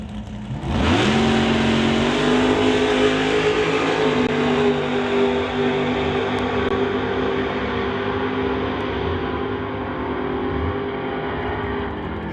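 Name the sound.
drag racing Camaro with 621 big block Chevy engine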